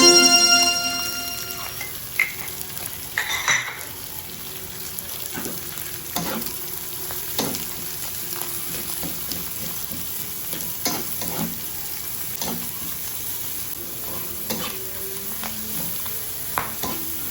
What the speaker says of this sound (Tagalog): Luto lang ating sibuyas. Paghaluin na natin siya guys.